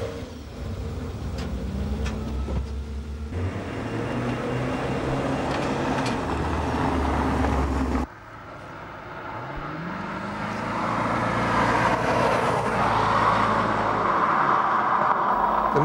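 A Maserati sports car drives past with a loud, close engine note that rises and falls through gear changes, then cuts briefly and builds again to a strong roar alongside road and wind noise.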